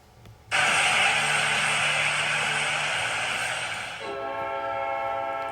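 Winnipeg Jets NHL goal horn blaring like a train horn, a single loud sustained blast that shifts pitch partway and carries on, alone without talk.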